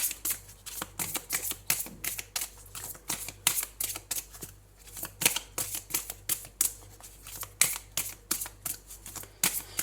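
Tarot cards are shuffled and drawn in quick, close, crisp bursts. Rapid riffling clicks repeat steadily with only brief pauses, and there is no talk.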